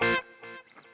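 Electric guitar through a Boss Katana Go headphone amp on a crunch setting with tape echo delay: a loud distorted strum followed by two fading, smeared repeats trailing off within a second, no talking.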